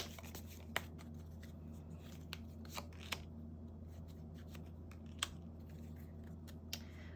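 Tarot cards handled on a table, giving soft papery slides and sharp little card snaps scattered across a quiet steady room hum, with no talk.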